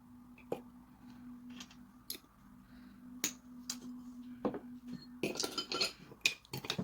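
A spoon clinks against a bowl while chia seed pudding with vanilla is stirred, giving sharp, sparse taps over a low steady hum, then a busier scraping and clattering stretch toward the end.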